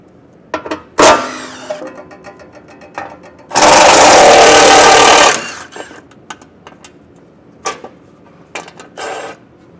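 A power tool with a 13 mm socket runs in one loud, sustained burst of about two seconds while removing heat shield bolts on a 2020 Chevrolet Silverado, framed by shorter clicks and clatter before and after.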